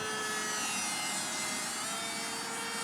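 A small radio-controlled parkjet shaped like the Soviet Buran space shuttle flies with a steady, even electric whine that holds at moderate level throughout, with no talk.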